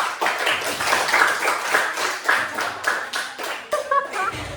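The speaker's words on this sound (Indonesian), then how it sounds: "semuanya pintar sekali, beri tepuk tangan" Children in a fourth-grade classroom clap together in a fast, rhythmic pattern of sharp hand claps, with a few voices briefly audible near the end.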